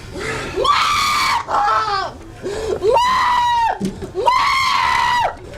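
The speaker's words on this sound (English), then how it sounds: "There, she's just yelling." A woman yells and screams in long, strained, pitched wails, four or five anguished bursts with short breaks, loud and close, in a tense encounter with police.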